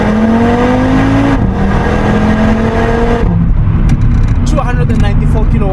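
Audi RS3 with its five-cylinder engine pulling hard under acceleration, a loud, steady rising drone with a gear change partway through, then a lower, rougher note as the revs settle.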